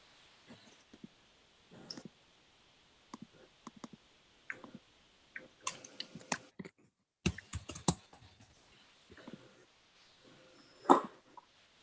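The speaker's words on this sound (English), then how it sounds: "if you could finish what you're typing" Typing on a computer keyboard indoors, with short irregular bursts of key clicks separated by pauses, fairly close and quiet, plus a few louder clatters and occasional small noises in the room.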